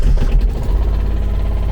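A Shindaiwa 200 welder generator mounted in a van runs at a steady idle, a continuous low mechanical drone with a smooth, even hum, close and fairly loud with no talk.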